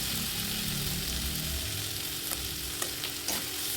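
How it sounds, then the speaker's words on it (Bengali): Bitter gourd pieces get stirred around a pan on the stove, a continuous sizzle with low scraping and a few light clinks of the spatula near the end, close up with no voice. "আবারও ভালো করে নাড়াচাড়া করে নেব"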